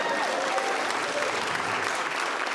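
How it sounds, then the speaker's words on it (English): A stand-up comedy audience applauds steadily, a thick wash of many hands clapping at even loudness throughout, with no talking over it. "You can applaud."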